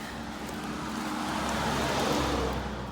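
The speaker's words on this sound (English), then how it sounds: "Car coming." A car passing on a quiet residential road, a broad rushing tire and engine swell rising gradually and peaking near the end, heard from the roadside.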